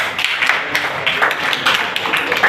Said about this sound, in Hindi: अनुष्का के लिए जोरदार तालियां।